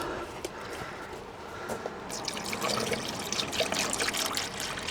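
Coolant being poured into the radiator of a Road Runner, a soft trickling and gurgling of liquid that grows fuller and steadier partway through, quiet and close with no talking.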